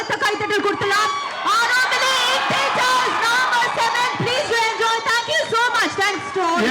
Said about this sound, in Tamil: ஒரு பலத்த கைத்தட்டல் கொடுக்கலாம்